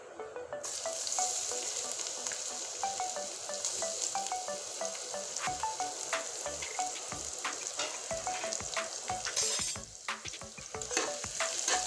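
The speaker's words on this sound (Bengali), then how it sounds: "রসুনটা লাল করে ভেজে নিয়ে এই যখন রসুনটা লাল করে ভেজে নিয়েছি" Crushed garlic frying in hot oil before kalmi greens go in, a dense continuous sizzle and crackle with a spatula scraping and tapping the pan in a busy rhythm, close and steady throughout.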